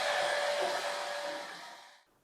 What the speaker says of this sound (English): So now I have turned on the high mode.